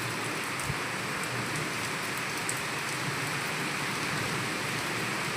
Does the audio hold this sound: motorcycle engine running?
no